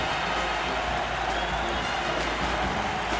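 A dense, steady roar from a college basketball arena crowd during a Texas State at Houston game, loud and continuous with cheering and clapping blended throughout.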